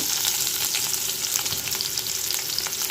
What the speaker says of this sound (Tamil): ரெண்டு பச்சை மிளகா எல்லாத்தையும் சேர்த்துக்குவோம் இது எல்லாமே நல்லா வதக்கிக்கிடலாம்